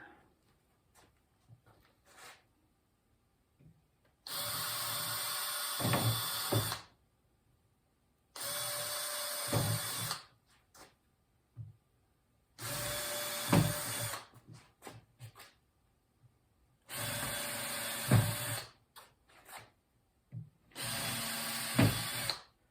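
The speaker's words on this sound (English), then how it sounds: "we're now just drilling some pallet hose, because if you put screws in this, it will split the wood" A power drill whirs in five separate bursts of a couple of seconds each, drilling pilot holes in wood for a fence, with quiet pauses and light handling noises between them.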